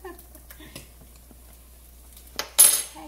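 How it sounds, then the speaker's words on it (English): Spoon stirring grits in a pot for Cajun shrimp and grits, soft faint scrapes and taps followed by a sharper metallic clink near the end, close and quiet. "let me keep stirring these"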